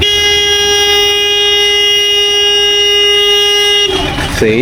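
A loud, sustained boat horn blares steadily for nearly four seconds in Alappuzha, rich and tonal, then cuts off into a brief burst of mixed noise.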